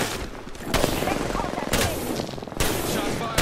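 Gunfire in the battle royale game Apex Legends, with three sharp bursts of shots cracking out over a steady background of game noise and faint speech.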